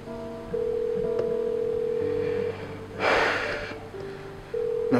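A telephone call rings out unanswered, a steady electronic ring tone with long even tones and pauses, heard alone with a brief breathy burst in the middle.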